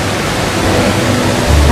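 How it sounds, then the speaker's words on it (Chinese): An indoor waterfall at Singapore Changi Airport produces a loud, steady rushing roar of falling water that fills the space without a break. "很漂亮的瀑布"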